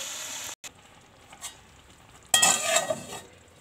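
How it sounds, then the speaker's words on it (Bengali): Hot water poured into a pan of small chuno fish frying with salt and turmeric sets off a burst of loud, hissing sizzle after a quieter stretch of low frying. "এবার একটু গরম জল দিয়ে দেবো।"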